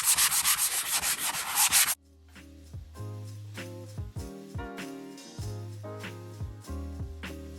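Sanding to distress an upcycled thrift-find furniture piece gives a brief burst of fast, rhythmic scratchy rubbing, followed by a quieter stretch of light knocks and tonal clunks, with no speech.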